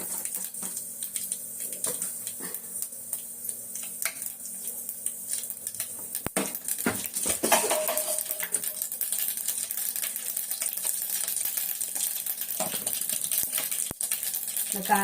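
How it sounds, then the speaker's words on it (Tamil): Mustard seeds splutter and pop in hot oil in a home kitchen while mutton head curry is being made, a dense, crackling sizzle of fast irregular pops, close and steady, with occasional brief talk. "கடுகு போட்டுக்கோங்க, பொரியட்டும்."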